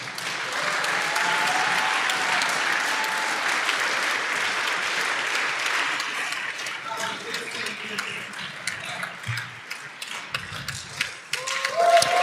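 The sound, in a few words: applause at the ICPC closing ceremony trophy photo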